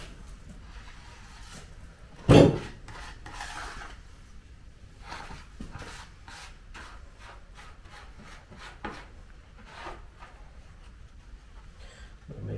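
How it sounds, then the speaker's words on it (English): A homemade notched trowel drags and rubs glue across a wooden scarf joint on a 28-foot cruising mast, giving a series of soft scraping strokes close up, with one sharp knock near the start. "So again, using my homemade glue spreader, notch trowel."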